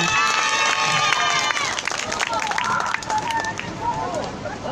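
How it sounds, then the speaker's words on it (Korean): A crowd at a Wednesday protest rally over Japanese military sexual slavery applauds loudly and steadily after a middle school choir's song, with cheers and shouts mixed into the dense clapping. "다시 한번 큰 박수 부탁드리겠습니다."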